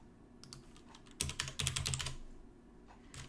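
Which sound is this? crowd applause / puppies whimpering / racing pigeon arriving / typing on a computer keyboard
typing on a computer keyboard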